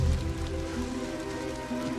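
Steady rain in a TV show scene, a dense continuous hiss and patter under low background hum, with no speech.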